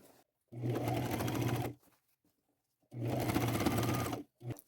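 A sewing machine stitches a folded half-inch hem in necktie fabric, running in two steady bursts of about a second each with quiet pauses between, close and clear with no talk.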